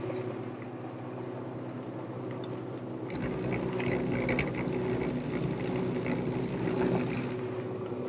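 Wood lathe spinning a bed post while a broad gouge rounds over its corners, a steady mechanical hum that turns into a harsher cutting rattle and hiss partway through.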